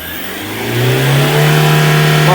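A car engine revs up steadily to around 4,500 RPM during a diagnosis and repair job, a loud, rising mid-pitched drone that climbs and then holds at a high pitch, close to the engine and with no talk over it.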